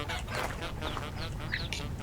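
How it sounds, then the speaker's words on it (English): Chickens clucking in the video game Vintage Story, a few short, faint, scattered clucks and squawks over a low background hum. "These are 0 generation chickens."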